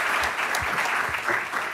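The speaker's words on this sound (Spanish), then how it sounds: "Démosle un aplauso a Karen por el trabajo que desarrolla" An audience at a human rights and social movements event applauds the speaker Karen Alfaro after her presentation, a short burst of steady, moderately distant clapping.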